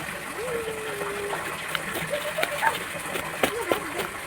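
Water splashes and sloshes as turu fish are washed and mixed with salt, close and moderately loud, while someone talks over the irregular splashing.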